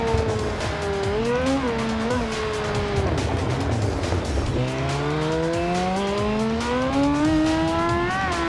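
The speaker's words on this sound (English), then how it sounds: "Nothing sounds better than a downshifting bike." A Honda CBR1000 superbike in the RIDE 2 racing game on the Nürburgring, its engine note loud and continuous, dropping in pitch with shifts and then climbing steadily as it revs back up.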